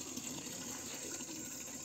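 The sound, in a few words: water running into a tank for bathing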